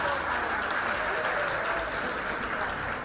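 Steady applause from a gala audience at an Equality Florida fundraiser in Palm Beach fills the room, continuous and fairly loud for the full stretch with no individual claps standing out.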